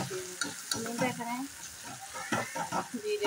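Boiled goat brain tossed into a sizzling spice masala, frying steadily with repeated scraping stirs of a spoon against the pan, close and moderately loud with no talk.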